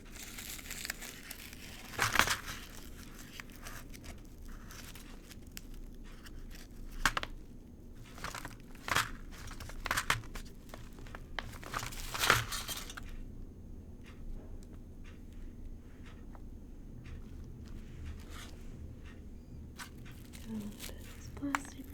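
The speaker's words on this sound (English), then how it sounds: "This plastic wrap here." Plastic wrap crinkles and crumples in scattered, irregular bursts at close range, running under and between a person's quiet talking.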